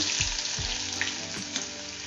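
Crushed garlic dropped into hot oil for a tempering while making a cabbage paratha filling, a loud, dense, continuous sizzle up close with a few stirring scrapes, no voices.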